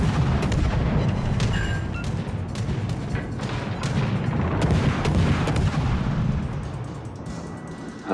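Naval gunfire in World of Warships: Legends, shells fired at the Soviet battleship Stalingrad, a loud sustained barrage of deep booming salvos and crackling blasts rolling on for several seconds, no voices.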